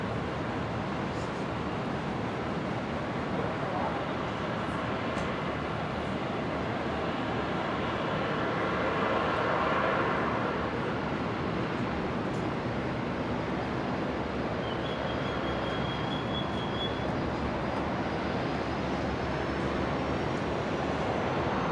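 An airliner, Velocity flight 943 from Sydney, lands on runway 01 right at Brisbane airport, heard as a steady, broad, distant roar that swells slightly midway and holds throughout with no talk.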